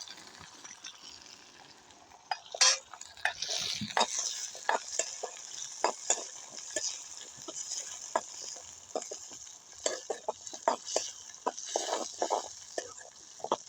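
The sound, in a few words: sautéing small onions and garlic in a pan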